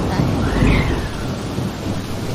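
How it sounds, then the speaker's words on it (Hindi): A storm at sea in a Hindi cartoon story brings a deep rumble of thunder with rain and wind, a loud, continuous roar that swells briefly near the start. "एक तूफानी रात थी। समुंदर में भयंकर तूफान आता है।"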